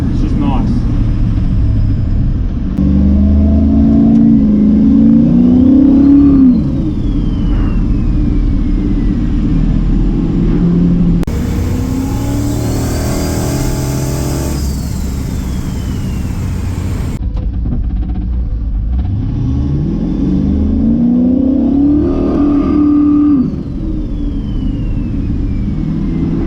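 A Ford XG ute with mufflers fitted drives along, its engine droning and rising and falling through the gears, with a steady road rumble and voices talking over it throughout.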